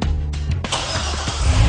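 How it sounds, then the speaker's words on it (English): A car engine is started remotely through a Viper SmartStart system: a brief crank catches, then settles into a steady close idle with no talking. "I just started my car from my iPhone with Viper SmartStart."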